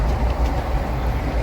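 A passenger train runs along with steady, loud, broadband rumbling and rattle heard from inside a crowded general coach, with no voices.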